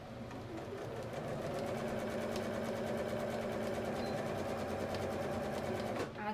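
Sewing machine stitching fabric doll hair, running in a continuous fast, even rhythm close by at moderate loudness, with a brief change at the start as it backstitches and a stop at the end.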